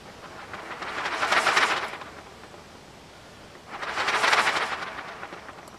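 Wind effect blown through trumpets, a breathy hiss that swells and fades twice, each rush building to a crescendo and easing off in a diminuendo, with a quieter gap between the two swells.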